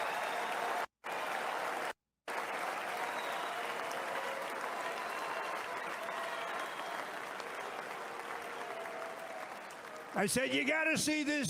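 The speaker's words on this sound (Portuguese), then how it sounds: "O público aplaude efusivamente e você ouve" Rally crowd at a politician's first speech after the assassination attempt applauds enthusiastically, a sustained wash of clapping and cheering broken by two brief dropouts, with a voice rising over it near the end.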